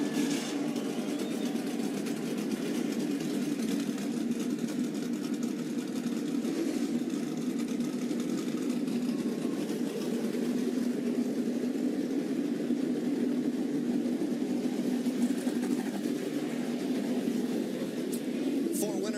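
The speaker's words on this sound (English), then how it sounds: "Drivers, start your engines." NASCAR Truck Series trucks start up and idle at Charlotte, a steady, dense engine drone holding at an even level throughout with no clear break.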